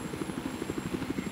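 A Battlefield 4 helicopter chops steadily with a fast pulsing rotor beat and low engine drone, continuous and fairly close with no voices.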